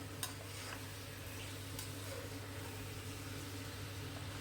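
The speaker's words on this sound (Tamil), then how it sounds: "இதை நல்லா மிக்ஸ் பண்ணி விட்டுட வேண்டியதுதான்" Yogurt-marinated chicken frying in oil for a chicken semi gravy: a soft, even sizzle over a low steady hum, with an occasional light tick of stirring, fairly faint and without speech.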